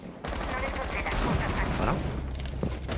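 Sustained automatic gunfire in the tactical shooter Rainbow Six Siege, a dense continuous rattle of close shots filling the whole stretch with dull impacts mixed in.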